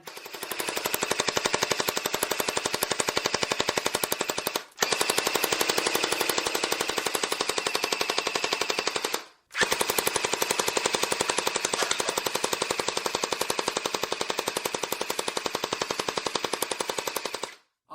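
Motorized Nerf blaster firing foam darts in continuous rapid bursts, a fast, even mechanical rattle held for several seconds at a time with two brief pauses, close and loud with no talk.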